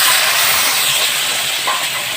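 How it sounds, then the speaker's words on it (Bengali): Hot water hitting a frying chicken curry in the pan, a loud, dense hiss of sizzling steam that holds steady throughout with only slight swells. "তো গরম জলটা দিয়ে আর একটু কষিয়ে নেবো, যাতে কষানোটা একটু ভালো হয়"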